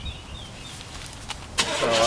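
A parked truck nearby starts up: quiet outdoor ambience with faint birdsong, then the engine cranks and catches into a loud, rough idle close by.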